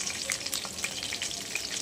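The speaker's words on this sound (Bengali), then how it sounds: "এখানে চিলি ফিশটা ভাজা হচ্ছে আর ওই কড়াতে চিলি চিকেন হচ্ছে।" Chili fish frying in a pan: a dense, close crackle of hot oil with quick pops and spits throughout.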